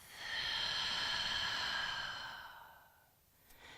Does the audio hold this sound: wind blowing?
no